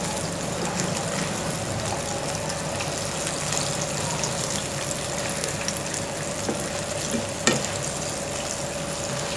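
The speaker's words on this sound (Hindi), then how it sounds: "इस तरह इसको चमचे से हिलाते रहें, ऊपर नीचे करते रहेंगे, तो इस तरह ये आपकी दोनों साइड से बहुत अच्छी सी क्रंची सी चिकन फ्राई हो जाएगी।" Chicken pieces frying in oil over a medium flame for sweet and sour chicken, a steady bubbling sizzle with occasional spoon knocks as they are turned, close and even throughout.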